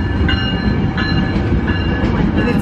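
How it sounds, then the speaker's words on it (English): In the Thomas the Train.EXE video game, a train rolls past at close range with a continuous loud rumble and clatter of wheels on track, steady throughout. "Why is the train stopping? The train is going by slow."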